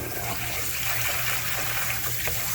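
Rice is rinsed under running water in a kitchen sink, a steady close rush of water with faint trickling and no voices.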